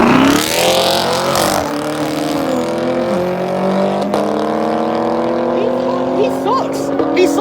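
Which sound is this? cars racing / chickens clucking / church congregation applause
cars racing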